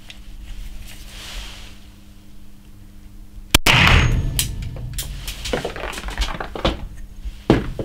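A Glock 17 fires a 9mm PAK blank with a rubber-bullet tip at an outdoor range: one sharp, loud report breaks a quiet stretch, followed by ringing echo and a few smaller knocks and handling noises.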